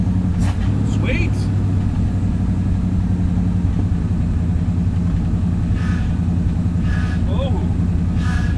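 A 1974 Ford F-250 truck engine runs with a steady, loud, low growling rumble close by, while brief voices come and go over it.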